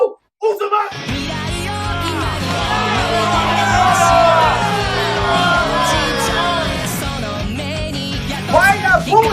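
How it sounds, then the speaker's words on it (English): A large crowd boos a contestant introduced as Boruto Uzumaki, a loud, sustained mass of voices that swells after a brief silence and carries on without pause. "Why are you booing me?"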